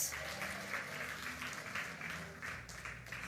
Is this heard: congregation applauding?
yes